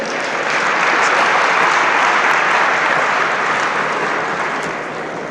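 A large audience at a Nigerian Air Force ceremony gives a loud, rousing round of applause for the President's remarks, sustained dense clapping that swells and then eases slightly toward the end.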